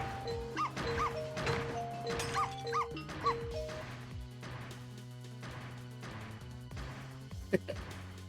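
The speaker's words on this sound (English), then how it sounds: "Oh, now the barks are higher pitched." Dog barks in a video game come in quick, high-pitched bursts over a background of game music and tones, fading after the first few seconds.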